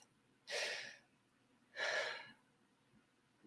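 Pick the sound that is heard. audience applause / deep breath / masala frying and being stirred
deep breath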